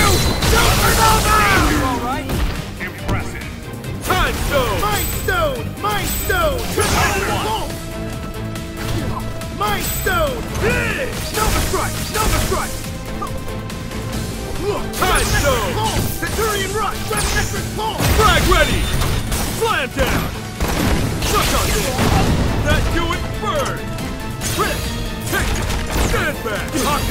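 Rapid, heavy hyper attack impacts from Nova in the Marvel vs Capcom Infinite fighting game: dense, loud smashes, booms and bursts piling on top of one another, with shouted character voice lines over the fight.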